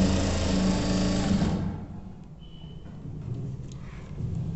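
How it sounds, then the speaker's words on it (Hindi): Sewing machine running fast as it stitches the fly of a pair of trousers, a loud steady whir for about a second and a half before it stops, followed by quiet handling sounds. "ये इतना पे सिलाई चल जाता है।"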